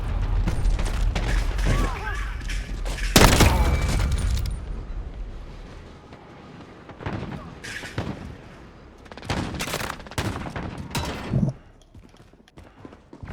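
Sniper rifle fire in a video game: loud sharp shots and several explosive bursts amid game noise, with a speaking voice heard at times.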